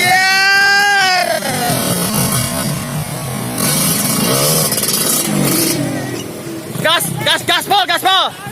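A motorcycle engine is revved hard at full throttle, rising and falling in loud rasping bursts up close, with voices talking and shouting over it and a rapid series of sharp revs near the end.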